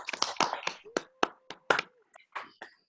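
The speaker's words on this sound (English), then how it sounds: "Everybody, big round of applause" Scattered, separate hand claps from a small audience at a showcase event for Alex Wood, close and uneven, with pauses between bursts and a faint voice near the end.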